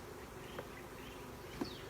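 Honey bees working newly drawn comb on the frames of a nuc hive give a soft, steady hum, faint and continuous, with one or two slightly louder passes close by.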